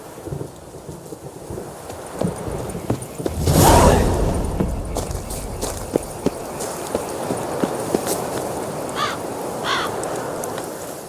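Crows cawing in The Witcher 3: Blood and Wine, a few short distant caws near the end over a rumble of thunder and steady rain, with a loud thunder burst in the middle.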